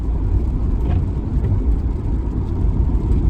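Lincoln car engine being given gas, a loud, rough mid-range rumble held near the listener, steady with slight surges of revving throughout.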